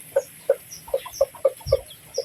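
A mother hen with eleven newly hatched chicks gives a run of about eight short, evenly spaced clucks, close and clear, over a faint background and with no talking.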